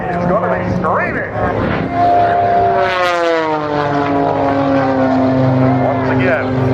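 Aerobatic propeller airplane with a Lycoming engine performing at the 2012 RAFB air show, its loud engine whine sweeping in pitch as it dives and passes close by, continuous under an announcer's commentary.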